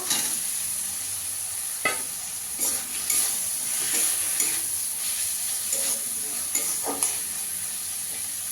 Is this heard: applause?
no